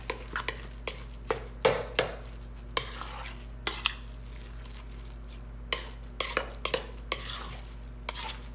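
Chocolate chip pumpkin muffin batter being mixed by hand, with a spoon scraping and knocking against the bowl in irregular bursts and a wet stirring sound between them. No voices.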